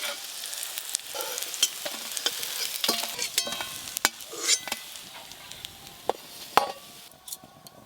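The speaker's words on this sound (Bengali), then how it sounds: "মটরশুঁটির বড়াগুলো একটু লাল লাল করে ভেজে নিয়েছি" Green pea fritters fry in hot oil with a continuous crackling sizzle, broken by sharp clicks and scrapes of a utensil turning them, close and fairly loud.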